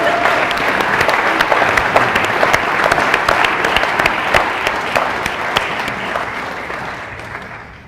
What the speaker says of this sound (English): Applause is